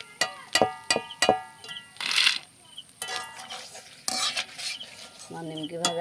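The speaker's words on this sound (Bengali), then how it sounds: "এভাবে সবগুলো আমি ভেজে নেব।" Nimki snacks fry in hot oil with a soft sizzle while a metal spoon stirs and scrapes the pan, giving sharp repeated clinks and bursts of bubbling.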